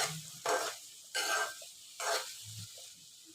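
Brinjal and tomatoes frying in oil over a low flame, with three bursts of stirring sizzle separated by quieter moments and a soft low thump near the end, close and moderately quiet.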